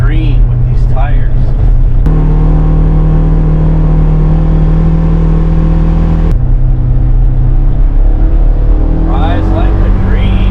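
A 2022 Polaris Ranger Northstar side-by-side drives along, its engine droning loudly and steadily with shifting pitch, under nearly constant talk from people in the cab.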